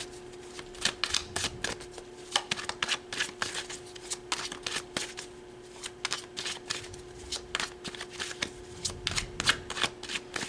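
Tarot cards being shuffled by hand, a steady run of crisp riffling and slapping bursts repeating for several seconds, close and fairly quiet over a faint steady hum, with no talking.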